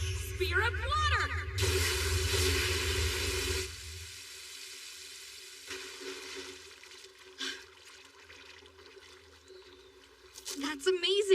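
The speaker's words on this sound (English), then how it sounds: "Now point it downstream and launch a spear of water" An anime water magic spear launched downstream gushes in a loud, broad rushing burst that trails off, with voices talking around it.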